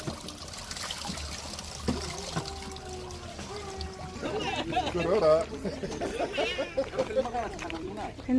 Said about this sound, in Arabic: وهذه العوينة اللي فيها الماء كيسقيو فيها كاع الناس، فيها ماء صحي